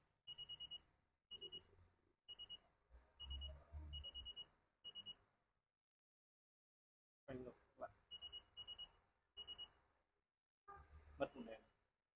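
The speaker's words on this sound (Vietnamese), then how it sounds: "nó sẽ báo đèn sáng này, nó tít tít này" Tecom TC-1500E wheel balancing machine emitting bursts of high, clipped electronic beeps in quick groups as a tyre is spun, with a person talking in between and some clatter.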